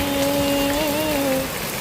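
Steady rain falls in an even, continuous hiss, loud and close, with a faint tonal hum running beneath it.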